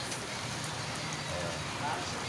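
Rain falls steadily in Hingog City, a continuous even hiss of drops filling the whole stretch at low, unchanging volume with no clear separate impacts.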